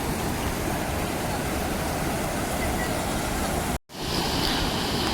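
Water spills loudly over a village lake's embankment after a downpour, a continuous heavy rush that cuts out for a split second and then resumes.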